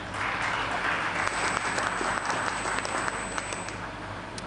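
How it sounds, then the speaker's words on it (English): Sustained audience applause at an awards ceremony for young women scientists, a dense wash of clapping from a large crowd that holds steady for several seconds, with a faint high electronic tone running through part of it. "Now you can applaud."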